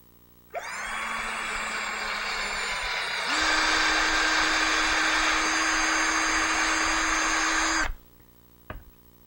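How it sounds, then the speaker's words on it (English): A power drill bores holes into a Christmas decoration, starting with a steady whine, jumping to a louder, higher-pitched run partway through, then stopping abruptly, followed by a brief faint click. "I finished drilling the holes for the nose and the arms"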